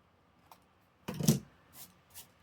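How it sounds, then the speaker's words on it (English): Scissors snip off the corner of a paper craft piece, a couple of crisp close cuts with a louder central snip and lighter clicks after, quiet and alone. "I'll just snip off that corner."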